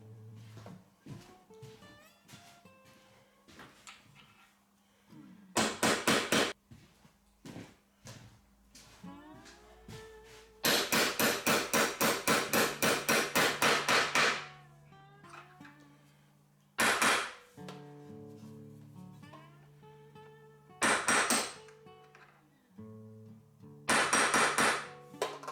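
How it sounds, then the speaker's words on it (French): A hammer drives nails into plywood held with a clamp, in several bursts of rapid sharp strikes separated by quieter pauses with faint handling noises, close and moderately loud. "on va mettre un serre-joint avant de planter les clous"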